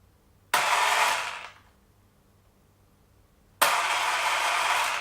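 A DeeRC 1611 1:14 scale RC car motor gets a throttle test, two bursts of high electric whine, the first spinning up and winding down after about a second, the second starting abruptly and holding steady.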